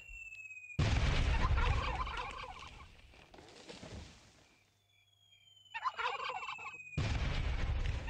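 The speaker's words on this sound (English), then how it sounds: "Alright, let's blast the turkeys." Loud bursts of turkeys gobbling in the survival video game Last Day on Earth: Survival, several raucous rattling calls separated by quieter gaps, with booming game sounds mixed in and no talking.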